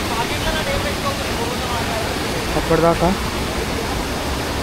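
Loud, constant rush of water at a stream crossing near Kalu waterfall in Malshej Ghat, Maharashtra, a dense hiss close by with a voice speaking briefly over it.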